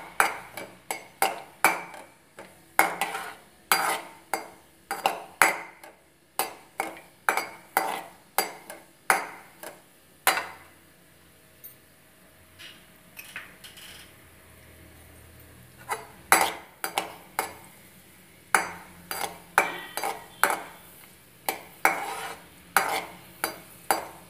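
Cashew nuts sauté in ghee for white pumpkin halwa, with quiet sizzling under a rhythmic run of close spoon-on-pan scrapes and clinks that pause briefly midway before resuming.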